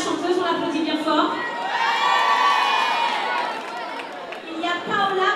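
A crowd cheering and whooping for a singer at a community gathering, with excited shouts, high voices and clapping blending into a lively, continuous roar.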